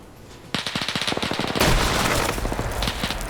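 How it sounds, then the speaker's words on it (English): An autocannon in a PvP shooter match fires a rapid burst of heavy rounds, followed by a louder sustained roar of gunfire and rumbling impacts, close and dense, with no talking. "now you're using the autocannon"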